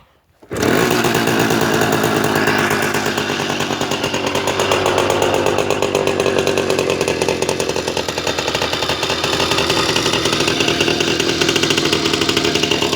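A Romet Ogar 200 moped's small two-stroke engine idles steadily and loudly close by, a continuous buzzing drone with a rapid even pulse, starting abruptly after a brief silence.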